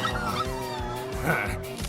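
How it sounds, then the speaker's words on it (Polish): A small dog barks, yips and whimpers in a prison escape game setting, close and fairly loud over a continuous background of music and noise, with whiny tones between short yaps. "Słodki piesek."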